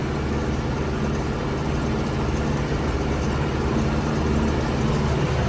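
An MTZ 82 tractor travels at about 12.6 km/h pulling a Veles Agro cultivator through a field, its engine a loud, steady, unbroken drone throughout with no voices.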